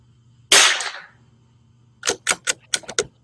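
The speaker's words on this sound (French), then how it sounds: "Là, la prochaine balle, l'explosion est plus forte." A single sharp, loud .22 rifle shot on a target range cracks and quickly decays. After a quiet pause, a quick run of crisp mechanical clicks follows close by.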